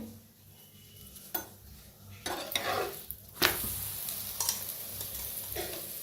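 Wheat chapatis cooked on a griddle with oil brushed on, heard as soft intermittent sizzling with a few scrapes and taps of a utensil against the pan, close and fairly quiet.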